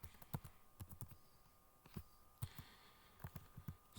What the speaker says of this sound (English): I'm in trouble typing square root